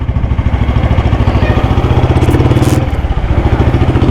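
A motorcycle engine runs steadily close by, its low throbbing rumble constant throughout with a brief shift in tone near the end.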